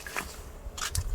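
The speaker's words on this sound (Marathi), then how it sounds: "आता मोहळ खाऊ बघू." Someone bites into fresh wild honeycomb outdoors on a farm, giving a few soft, close, crunchy bite sounds within a second.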